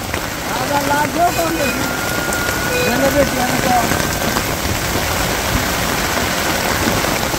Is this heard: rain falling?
yes